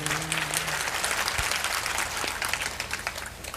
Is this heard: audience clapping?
yes